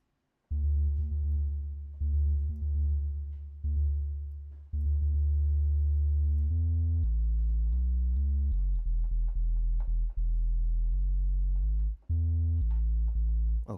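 A bass-heavy synth patch built in Reaktor plays sustained low notes, then a faster sequence of pitched tones with delay echoes trailing each note, loud and continuous without any talking.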